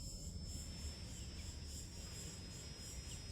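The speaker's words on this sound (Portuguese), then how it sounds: "Vamos ver essa cigarra aí até onde ela vai continuar tentando atrapalhar eu." A cicada buzzes steadily and continuously in the background, a high sustained drone over low indoor room noise with no pauses.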